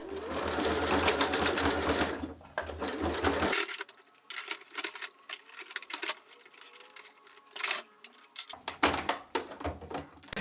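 Sewing machine stitching a buttonhole through thick denim: a loud, fast mechanical whir for several seconds, then a quieter stretch of intermittent clicks and clunks as the presser foot struggles over the seams, before the whirring resumes.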